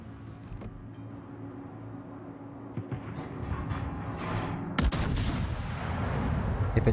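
Battleship guns firing in the World of Warships naval game, heard as distant booms under a rumbling ambient bed, with a sharp loud blast near the middle followed by rolling echoes.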